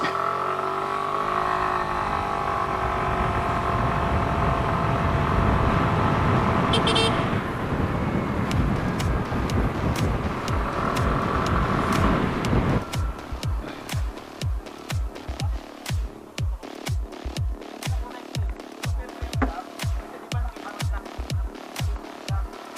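A Suzuki Burgman 125 scooter accelerating hard toward 60, its engine droning loud and steady at first, then a road rush punctuated by regular rhythmic thumps or clicks in the later half.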